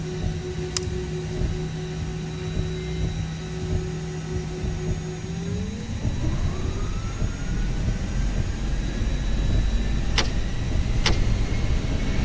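Engines of a Cebu Pacific Airbus A320 in a flight simulator hum steadily, then rise smoothly in pitch and roar as thrust builds for takeoff, with a broad rumble swelling underneath and a couple of brief clicks.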